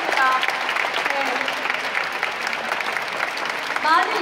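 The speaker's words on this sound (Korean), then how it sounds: "다시 한번 큰 박수 선물해주시기 바랍니다." Loud, sustained applause from an audience after a company president's farewell address, dense continuous clapping with a few faint voices and whistles over it.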